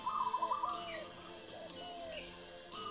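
A zebra dove coos softly in short rhythmic phrases, with a faint, slightly distant quality against low background noise.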